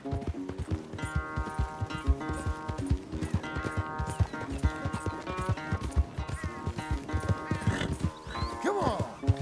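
In Red Dead Redemption 2, a horse's hooves clip-clop in a fast, steady rhythm throughout, and a rising whinny comes near the end. Someone talks intermittently over the hoofbeats.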